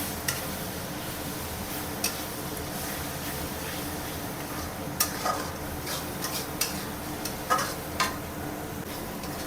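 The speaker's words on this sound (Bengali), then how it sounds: "আদা রসুন দেওয়ার পরে আমি 1 মিনিটের মতন এরকম নাড়ে চাড়ে মশলাটাকে একটু কষে নিলাম।" Ginger-garlic spice masala being stirred and fried in a pan for Kolkata-style biryani, a steady low sizzle with occasional light scraping clicks of the spoon, close and fairly quiet, with no talk.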